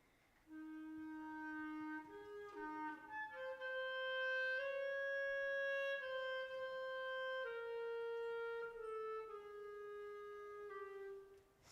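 A lone melodic instrument plays the love theme from Berlioz's Symphonie Fantastique, a slow, clear, sustained line of held notes that rises and falls, quiet and unaccompanied in a concert setting.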